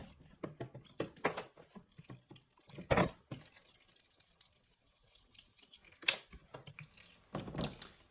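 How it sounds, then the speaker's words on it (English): Water runs and drips through a spray gun being rinsed clean with a brush: quiet, irregular splashes and drips come in scattered bursts with short gaps between them. "Allow plenty of water to flow through."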